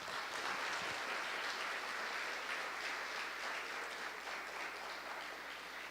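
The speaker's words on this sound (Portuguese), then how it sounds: "Você pode aplaudir ao Senhor?" A church congregation at a family worship service applauds steadily, a dense, even wash of clapping that holds for the full stretch at moderate distance with no voices over it.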